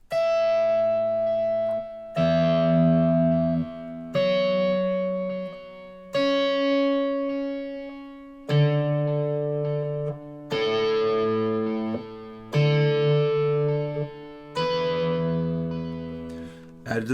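Electric guitar with effects tapping a sustained pedal tone for a song, long ringing notes restruck about every two seconds, each shifting pitch with the chord changes, clear and alone.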